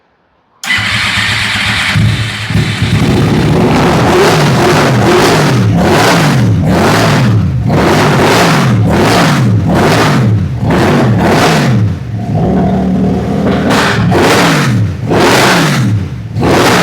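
A Dodge Ram truck engine with messy wiring cranks briefly, catches and roars to life, then revs loud and close in repeated rising and falling surges for over fifteen seconds, with no one speaking.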